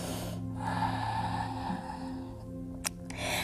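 Deep, slow breathing during a yoga session, with a long audible inhale or exhale close to the microphone over soft background music.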